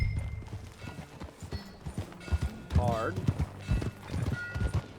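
Rhythmic hooves of a horse clip-clopping at a walk in Red Dead Redemption 2, close and clear, with a brief whinny midway and people talking over the steps.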